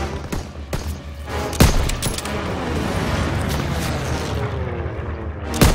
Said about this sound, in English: di sana ada yang pakai mesin gun